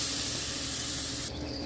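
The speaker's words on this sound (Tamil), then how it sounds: "கொஞ்சம் வதங்கினதும் தண்ணி ஊற்றி இது கொஞ்சம் வேக வச்சுக்கலாம்" A loud, sharp burst of hissing steam as water hits a hot pan of sautéing eggplant and garlic, cutting off abruptly near the end into a softer sizzle.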